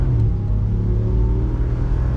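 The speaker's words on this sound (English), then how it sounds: "great V8 sound" A 2020 Ram Rebel off-road truck's V8 revving on throttle, a loud steady low rumble held close for a couple of seconds with no talk.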